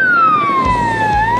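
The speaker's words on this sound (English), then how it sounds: "There's even a siren button." A Radio Hailer PA system sounds its siren: a loud, steady electronic wail that glides down and begins to rise again, with no other sounds around it.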